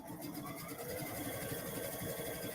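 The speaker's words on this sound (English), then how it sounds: "You go ahead and sew the other pocket." A home sewing machine stitches a pocket along a side seam, giving a steady, continuous mechanical whir and rapid needle chatter at close range, running unbroken throughout.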